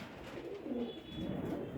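A blue-green pigeon in a breeding setup coos in low, soft, murmuring phrases, fairly close and alone, with no voices over it.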